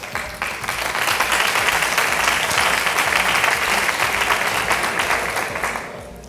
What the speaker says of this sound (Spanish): Aplauden y no saben la respuesta